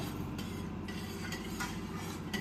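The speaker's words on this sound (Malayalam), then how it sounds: "ഒന്ന് ഇളക്കി നോക്കാം കേട്ടോ" A spoon stirring upma made from little millet (chama rice) in a pot, soft repeated scraping strokes, quiet and close with no voices.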